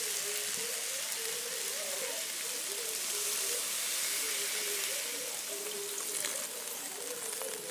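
Pan of simmering potato curry (aloo dum) with water just added, giving a steady, even hiss and bubbling sizzle that runs throughout, with no talk over it.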